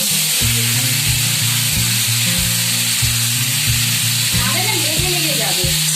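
Taro pieces frying in a little oil in a wok, a steady loud sizzle with scraping stir strokes and a low rhythmic hum running underneath.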